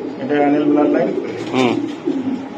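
Racer pigeons at a breeding farm cooing in soft, throaty bursts, heard under men's conversation nearby.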